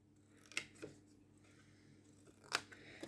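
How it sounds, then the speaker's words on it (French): Scissors snipping paper or card along folds for a jewelry box lid, two or three sharp close cuts separated by quiet handling, no talk. "on va couper le long de nos 2 plis"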